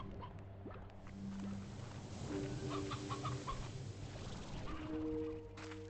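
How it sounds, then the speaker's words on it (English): Chickens clucking in the video game Slime Rancher 2, soft scattered clucks over a steady ambient music bed. "Plenty of chickens around for now."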